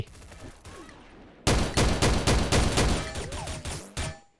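Rapid gunfire in a shooting video game during a ghost-mode match, with sharp bursts repeating steadily after a quiet opening and carrying on loud to the end.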